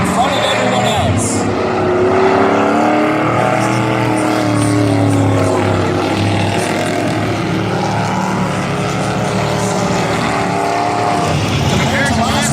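Race trucks and cars roar around a dry dirt oval at Valley Raceway during a truck-class heat race, a steady loud engine drone throughout under an announcer's continuous commentary.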